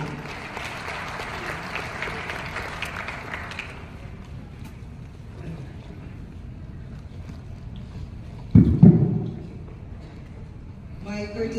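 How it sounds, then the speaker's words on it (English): Audience at a physicians' oath-taking ceremony in Davao, Philippines, applauds for a speaker: a broad clapping wash at first that fades into quieter room noise, with a brief louder thump later. "Please give a round of applause to Dr."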